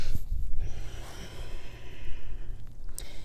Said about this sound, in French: J'inspire, j'expire.